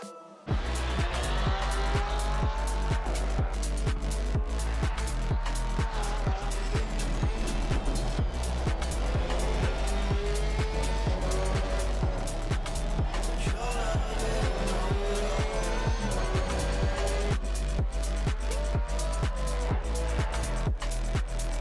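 A Porsche race car lapping Valencia in the racing game Assetto Corsa Competition, with a loud, continuous engine that rises and falls through rapid gear changes, rhythmic shift cuts and brief tyre noise, heard from on board.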